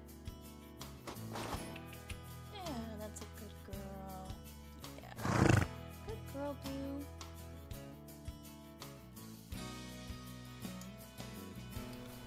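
A horse at a ranch lets out one loud, brief whinny midway through, set within background music.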